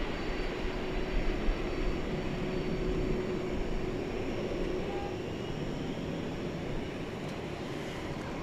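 An American Airlines airplane takes off at DFW Airport, its engines making a steady, sustained roar heard from a distance for the whole stretch.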